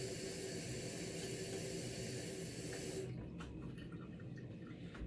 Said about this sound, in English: Now this, you can wash it, so I am going to wash it.